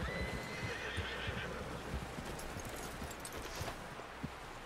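A horse in Red Dead Redemption 2 gives a short neigh over a busy background of clopping hooves and low rumble, with the whinny fairly close but not dominant.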